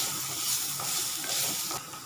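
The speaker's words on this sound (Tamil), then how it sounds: "இதில் கொஞ்சம் தேங்காவை போட்டு அதையும் நம்ம வதக்க போகிறோம்." Beetroot and coconut sautéing in a pan for chutney, a continuous close sizzle and hiss with soft stirring movement, steady and alone.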